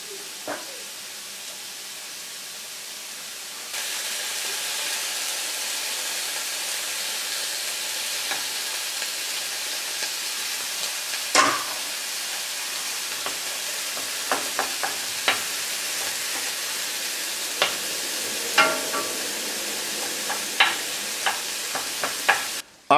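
Onions sautéing in a pan for a chicken broccoli casserole: quiet at first, then a steady loud sizzle begins a few seconds in and continues with intermittent crackles and utensil clicks, close, with no talking.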